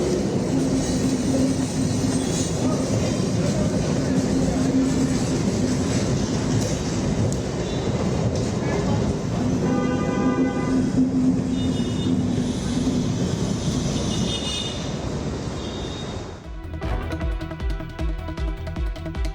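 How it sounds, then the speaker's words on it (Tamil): A Chennai elevated train on a high-speed test run between Velachery and Parangimalai at 60 to 70 km/h gives a loud, continuous rumbling roar that holds steady, then shifts to a sharper rattling texture near the end. "சென்னை வேளச்சேரி மற்றும் பரங்கிமலை இடையே பறக்கும் ரயில் அதிவேக சோதனை ஓட்டம் வெற்றிகரமாக நடைபெற்றது."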